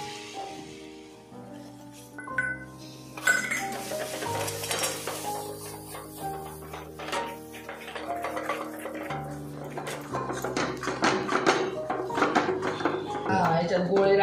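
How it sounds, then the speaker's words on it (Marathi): Chickpea flour dough being stirred and cooked in a pot, with scraping, clinking utensil sounds against the pan under steady background music and sizzling. "ते आपल्याला चण्याच्या डाळीचं पीठ याच्यात टाकायचं आहे आणि आपल्याला हलवून शिजून घ्यायचे चांगला गोळा"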